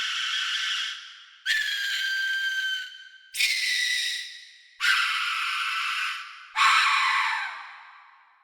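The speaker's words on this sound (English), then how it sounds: "Death whistle screams effects." Five harsh, breathy death whistle screams from the Quetzal sample library, each a loud noisy shriek lasting over a second that fades out, separated by short silent gaps.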